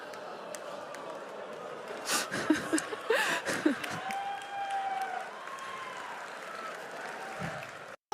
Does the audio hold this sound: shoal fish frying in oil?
no